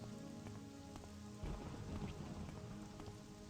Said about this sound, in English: That was a familiar thunder sound effect.